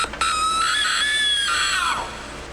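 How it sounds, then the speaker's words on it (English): Little girl screaming sound effect played by a troll prop: one loud, shrill, sustained scream that wavers and then trails off, alone with no talk. "9 is going to be a little girl screaming."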